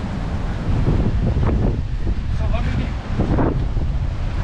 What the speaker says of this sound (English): when you hear the wind